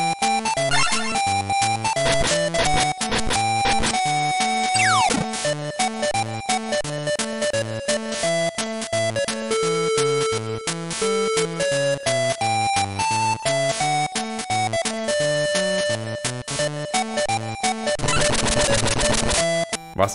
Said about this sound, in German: Munteres Puzzler-Gedudel.